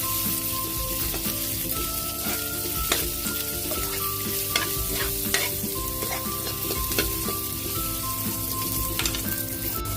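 Garlic and onion sautéing in a pan for ginisang sayote, a continuous close sizzle with the spatula clinking and scraping repeatedly against the pan.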